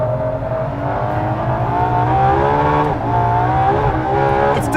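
Ferrari LaFerrari hybrid V12 hypercar on a race track, its engine loud and continuous as it corners, pitch dipping and climbing with throttle trims, with a faint tire squeal near the end.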